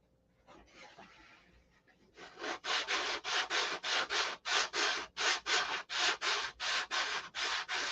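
Hand sanding on the body of a Viper car: a steady run of about fifteen rhythmic back-and-forth rasping strokes, close and loud, following a brief softer scrape.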